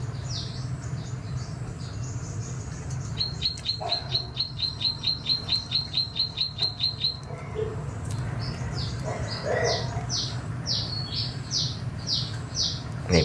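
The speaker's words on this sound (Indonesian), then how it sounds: "Nih burungnya, burung pemakan yang manis-manis nih." Small nectar-eating birds chirp repeatedly, including a rapid even series of high tweets, over a steady low hum, with faint background voices.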